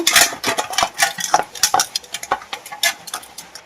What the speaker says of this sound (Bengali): আমি একটা পাত্রের মধ্যে তেল গুলিয়ে নেব